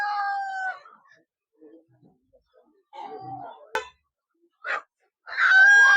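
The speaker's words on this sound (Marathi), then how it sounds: "सुरुवातीला कोंबडे आहे." A domestic rooster at a goat and sheep market in Talegaon Dhamdhere crows close by in short bursts separated by quiet gaps, with a brief sharp knock midway.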